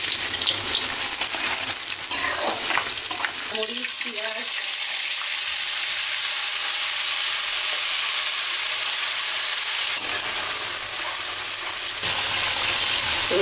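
Garlic paste, ginger paste and dried chili sizzle loudly in a hot pan, a steady bright hiss with a few stirring scrapes near the start, continuing unbroken for the whole stretch with no talk.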